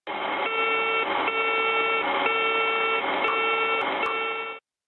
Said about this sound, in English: Both red attention getters will flash and an intermittent horn will sound